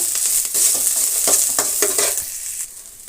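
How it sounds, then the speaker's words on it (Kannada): Green chilli, onion and curry leaves fry in a pan with a bright steady sizzle, broken by several scraping stirs of a spatula, close and fairly loud with no talking. "ಅದರ ಜೊತೆಗೆ ಹಸಿಮೆಣಸಿನ್ಕಾಯಿ, ಒಂದು ಈರುಳ್ಳಿ, ಸ್ವಲ್ಪ ಕರಿಬೇವು ಸೇರಿಸಿ ಚೆನ್ನಾಗಿ ಫ್ರೈ ಮಾಡ್ಕೊಳ್ಳೋಣ."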